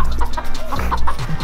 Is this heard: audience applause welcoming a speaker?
no